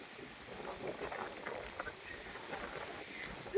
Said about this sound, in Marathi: बघा पाऊस बघा जोरदार पाऊस पडतोय